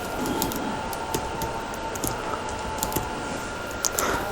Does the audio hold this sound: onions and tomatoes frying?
no